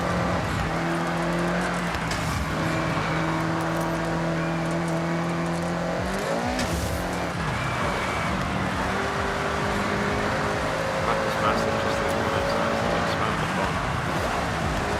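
A McLaren engine in the Forza Horizon racing game drones and revs steadily, with a shifting pitch around a gear change near the middle, heard beneath a talking voice.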